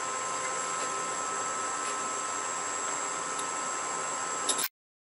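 A wood lathe spins a segmented bowl at about 650 RPM, giving a steady, even whir with a faint high whine that runs unbroken, then cuts off abruptly near the end.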